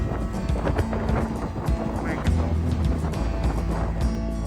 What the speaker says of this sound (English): Got caught in the storm.